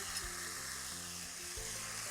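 Black beans and canned diced tomatoes with their juice sizzle in a pot, a soft continuous bubbling hiss heard close but fairly quiet, with faint low stirring bumps and no voices.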